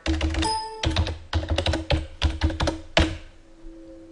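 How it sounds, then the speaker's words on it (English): Password typed on a computer keyboard: a quick run of close, crisp key taps in irregular clusters, ending with a firmer final keystroke and then quiet. "I'm going to type in my password."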